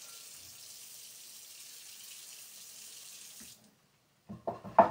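Running tap water rinsing a plate in a kitchen sink, a steady soft hiss for several seconds that stops abruptly, followed by a few brief knocks and clatters of the plate, close and quiet, without talk.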